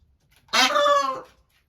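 Peacocks give a single loud, harmonic wailing call lasting under a second, close and clear against an otherwise quiet yard.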